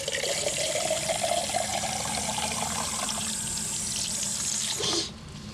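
Methane-contaminated water gushes from a tap in a steady loud stream, then stops abruptly near the end.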